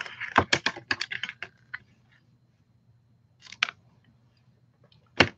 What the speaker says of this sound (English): And get my good snips.